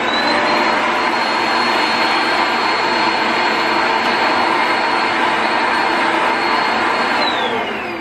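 A carpet cleaning machine runs on carpet in an office with a loud, steady whine and rushing suction roar that holds constant throughout, close by, with no one talking.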